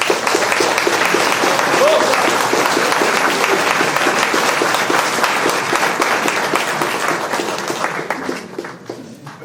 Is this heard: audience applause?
yes